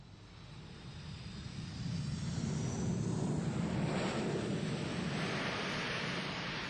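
A jet airliner engine roars with thrust reversers deployed during landing rollout, a broad rushing roar that swells after the first couple of seconds and holds steady and loud.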